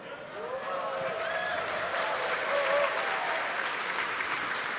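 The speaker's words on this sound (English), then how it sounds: "The crowd here reacting to that call out" A crowd bursts into sustained applause and cheering after a Starship landing call-out, a dense wash of clapping with scattered whoops, moderately distant and steady.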